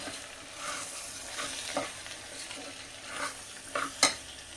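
A spoon stirring masala khichdi of rice and dal in a pot, with soft scraping and frying sizzle and a few sharper knocks toward the end, all fairly faint.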